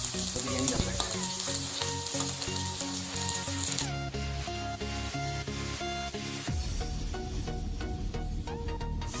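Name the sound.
onions frying in oil for chicken biryani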